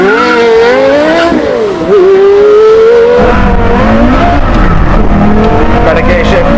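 Two supercars, a Porsche Carrera GT and a Lexus LFA, scream through rising gear changes in a drag race, with loud engine whine climbing and dropping, tire noise, and a person talking over the run.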